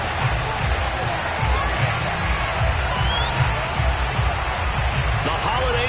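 Sold-out stadium crowd at a Patriots versus Colts NFL video game, a steady dense roar of cheering and crowd noise throughout, with an announcer talking over it.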